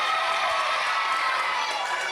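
A wrestling crowd cheers loudly and steadily at a live event, a dense continuous roar with scattered shouts, no pauses across the short stretch.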